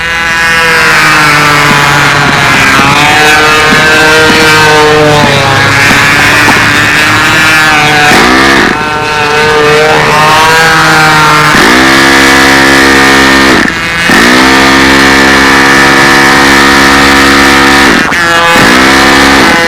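A loud, high-revving control-line model airplane engine buzzes continuously at a contest, its pitch rising and falling as the throttle changes, running up close.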